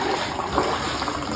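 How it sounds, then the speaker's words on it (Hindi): Water poured into a pot of milk and sugar while making tea, a short steady splashing pour of liquid at close range with no talking. "थोड़ा सा पानी डालेंगे इसके अंदर"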